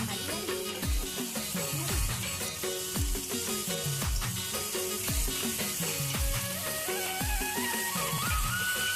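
Chopped onions tossed into hot oil for amari bhaji, giving a steady close broadband sizzle and crackle, with repeated soft stirring scrapes and a faint musical tone underneath throughout.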